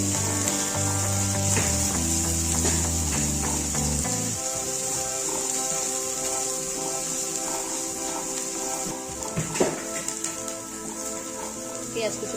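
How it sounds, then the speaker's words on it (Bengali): Chopped onion sizzles steadily as it fries in a pan with black cumin and whole cumin for a papaya paratha, a continuous crackling hiss under tonal background music. "পেঁয়াজ কুচিটাকে এবার একটু লাল লাল করে ভেজে নেব।"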